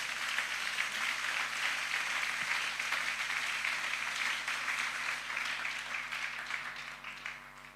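A church congregation at a Sunday service applauding together, a dense, sustained wash of clapping that fills the room and slowly tapers off near the end.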